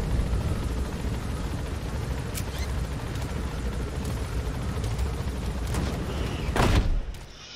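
A helicopter in Metal Gear Solid V produces a steady, loud rotor and engine roar throughout, with a few sharp blasts cutting through. Near the end one big explosion swells, then the roar drops away.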